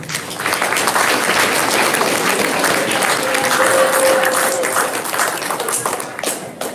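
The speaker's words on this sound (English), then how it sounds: "And a round of applause for Piper" A school audience at a junior high storytelling event claps for a student, steady dense applause filling the whole stretch at close range, with a brief faint tone midway and a slight tapering near the end.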